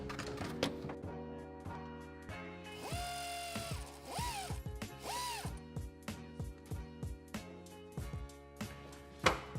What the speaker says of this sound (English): Air ratchet time.